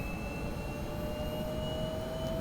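Steady broadband turbine roar of an SA342 Gazelle helicopter engine at stabilized RPM in the DCS flight simulator, with two thin sustained whines sliding slightly upward over a constant wash, no talk.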